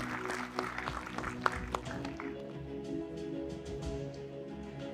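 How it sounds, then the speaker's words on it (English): Audience clapping breaks out at the Miss Kohima 2025 pageant in Jotsoma, scattered and textured for the first two seconds, then thinning under steady background music and hall hum. "let us all please give a thunderous applause for the reigning queens of Miss Kohima"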